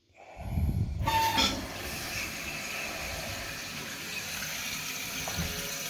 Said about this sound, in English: Tank is filling.